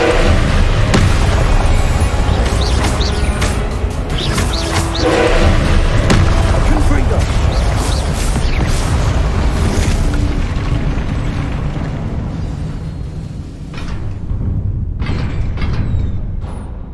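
Confringo spell explosions in the video game Hogwarts Legacy: repeated deep booming blasts and rumbling bursts pile up loudly over seventeen seconds, with a voice calling out amid the combat.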